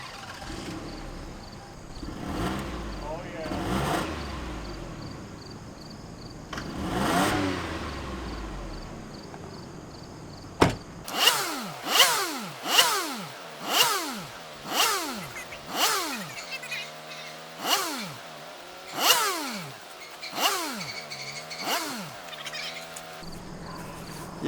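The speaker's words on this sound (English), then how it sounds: "now it's time to literally just rev the shit out of it" A car engine revved hard after a fifteen-minute hot soak: about a dozen loud, evenly spaced revs rise and fall in a steady rhythm up close, after a rough idle and a few slower earlier revs.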